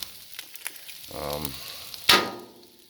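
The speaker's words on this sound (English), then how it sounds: "And just let them fry up." Potatoes frying on a Blackstone flat-top griddle give a steady hiss and crackle. A short voiced sound breaks in midway, then a sudden louder burst of sizzle follows that slowly fades.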